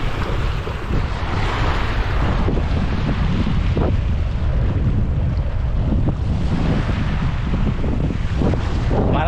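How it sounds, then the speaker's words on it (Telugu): Strong wind buffeting a lakeside during a fishing trip, a loud continuous roar with heavy gusty rumble and microphone buffeting throughout, no voices. "గాలి వస్తుంది బాగా."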